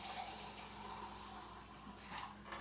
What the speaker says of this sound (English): So we're gonna add a half can of water.